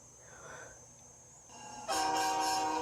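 Quiet rumble at first, then a loud, steady steam locomotive whistle blows with rising pulses, close and clear over the background, in a railroad video game.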